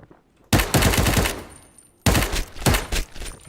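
Two loud bursts of rapid automatic gunfire from the game Ring of Elysium, each about a second and a half long with echoing tails and a short pause between them, close and with no speech.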